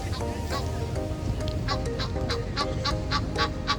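A bird approaching and honking like a goose, giving repeated loud honks at an irregular, quickening pace over a steady outdoor rumble.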